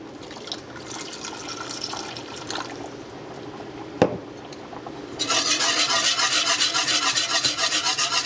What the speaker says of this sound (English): pour in your milk slowly, a little at a time, stirring it in and making sure that you don't have any clumps of flour